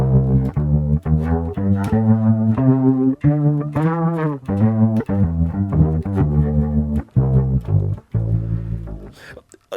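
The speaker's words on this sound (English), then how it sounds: "The other effect that I use this for is actually the rotary speaker simulator" Bass guitar played through a Leslie-style rotary speaker simulator pedal, improvised notes with a warbling, swirling tone, loud and close with no talking.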